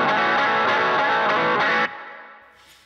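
A heavily distorted electric guitar rings out loud, untidy sustained chords with a few restrikes, then cuts off abruptly and leaves a fading, noisy tail.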